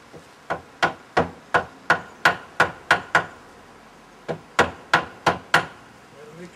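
Hammer tapping a board into line on a roof build, two runs of sharp, evenly spaced knocks, about nine strikes then a short pause and five more, close and clear with no talk.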